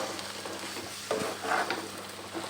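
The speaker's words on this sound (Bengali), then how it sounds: "এবারে গোলমরিচটাকে একটু নাড়াচাড়া দিয়েই" Black pepper powder being stirred into chicken curry in a pan makes a soft, continuous sizzle broken by a few short scraping stirs over a couple of seconds.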